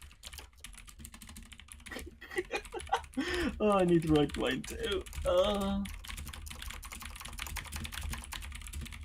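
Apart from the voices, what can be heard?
typing on a computer keyboard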